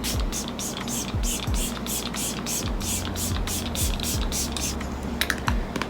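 Repeated short hissing bursts of Milk Hydro Grip Setting Mist sprayed onto hair, about a dozen quick pumps in a steady rhythm, close and fairly loud over a faint background hum.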